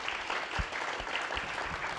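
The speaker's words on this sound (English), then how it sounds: "Let's give them a round of applause." An audience at a conference stage session on AI in education claps in a steady, even wash of applause, moderately distant and sustained throughout.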